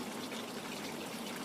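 Water circulating through a hydroponic vegetable growing building makes a soft, steady trickling and gurgling flow, faint and continuous with no voices.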